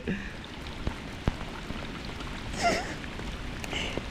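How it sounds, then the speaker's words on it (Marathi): Light rain falls softly, with scattered drops tapping and pattering faintly against a quiet background. "पाऊस चालू झाला."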